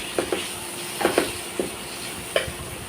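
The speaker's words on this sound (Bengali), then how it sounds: "গাজর আর টমেটোটাকে কিছুক্ষণ সময় ধরে একটু ভাজবো।" Carrot and tomato fry with onion in a home kitchen pan for chow mein, giving a steady sizzle broken by several sharp scraping stirs from a utensil, close and alone with no talking.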